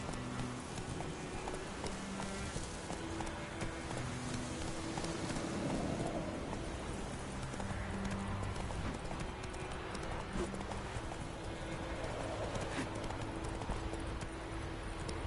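Roach, the horse in The Witcher 3: Wild Hunt, gallops in a continuous, dense clip-clop of hooves, loud and close, with steady wind-like rushing noise throughout.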